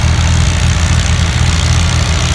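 A big old Caterpillar D7 crawler tractor engine runs steadily at a construction equipment show, a loud, continuous low diesel rumble with strong throbbing bass and no pauses.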